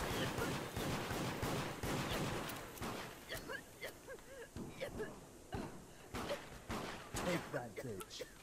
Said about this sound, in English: Oh, were you shooting Hans?